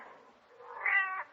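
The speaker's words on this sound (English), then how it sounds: "Sounds like a cat." A kitten meows once in an old time radio mystery drama, a short rising then falling cry, fairly clear and alone, with no voices over it.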